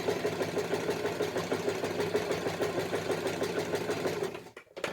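A sewing machine runs a steady zigzag stitch through fabric for a quilted hot water bottle cover, a close, even mechanical whir for about four seconds before it stops abruptly.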